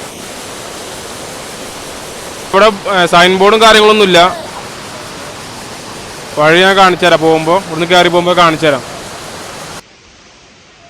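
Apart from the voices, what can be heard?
Kampiya waterfall near Kodaikanal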